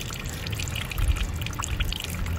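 A thin stream of water trickles and pours steadily, close by, with a constant splashing hiss and a low rumble throughout, and no talking.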